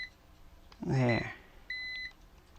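An Omnibot 2000 toy robot gives a steady electronic beep, a single held tone lasting about a third of a second, with faint mechanical clicks and a brief voice-like burst just before it.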